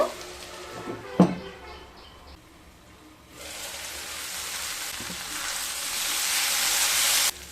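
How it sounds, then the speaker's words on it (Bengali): Beans and potato masala fry on a low flame, first with a few soft clinks and stirring, then a steady sizzle that rises and grows louder toward the end, with no talking. "মিশিয়ে নিয়ে লো ফ্লেমে আবারও এক থেকে দেড় মিনিট রান্না করে নেব"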